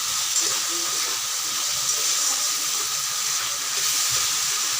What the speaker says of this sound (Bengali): এখন মশলাগুলোকে খুব সুন্দর করে আলুর সঙ্গে কষাতে হবে।